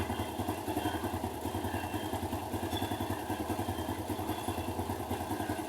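A motorcycle engine idles during a five-minute warm-up run, its close, steady low putter pulsing in an even rhythm with no voices over it.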